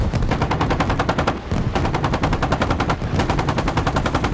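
Rapid 30mm cannon fire in a naval battle game, a loud, continuous stream of close, fast shots with only one brief break.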